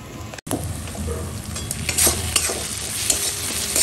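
Ghugni masala being stir-fried in a pan at home, with a steady sizzle and scraping stirs, close and continuous, no voices.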